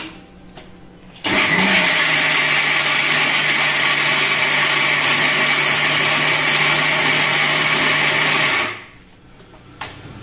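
A mixer grinder blending tomato chutney starts abruptly and runs at a loud, steady whine for about seven seconds, then spins down. The room is quiet before and after.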